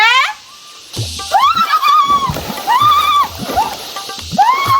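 Someone dives into a swimming pool with a sharp splash. Loud, excited shouting and squealing voices come before it and continue afterward.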